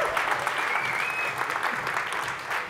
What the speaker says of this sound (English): you gotta keep clapping until I put this in